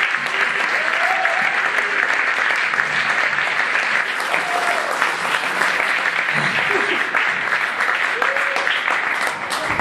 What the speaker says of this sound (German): mit mir zusammen in einem frenetischen und fanatischen Applaus